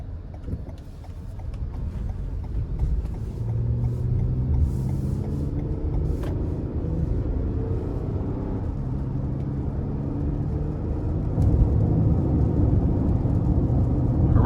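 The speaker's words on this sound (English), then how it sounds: "take this Highlander out on the road for a test drive" A 2020 Toyota Highlander Limited AWD drives along a road, heard from inside the cabin as a steady low road and engine rumble with tire noise that swells slightly toward the end.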